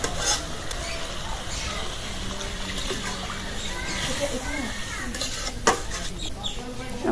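Mixed freshwater fish being cooked into a curry in a pan as water is poured in, a low sizzle and trickle with occasional clinks of a utensil against the pan, close and fairly quiet.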